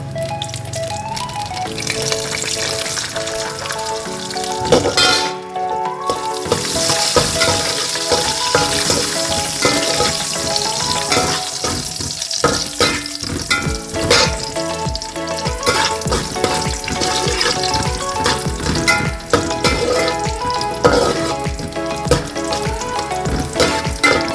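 Raisins frying in a pan while adai payasam is being made, giving a steady, busy sizzle with stirring clatter throughout. No one speaks.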